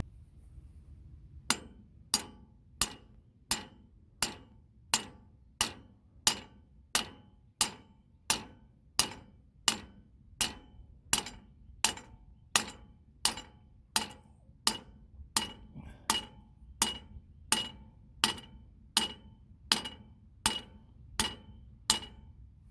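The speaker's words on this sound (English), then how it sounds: "take a hammer and drive that in there." Steady hammer blows drive a Cat2 to Cat1 reducer bushing into place roughly once a second, each a sharp ringing metal clank, about two dozen in a row with nothing else heard.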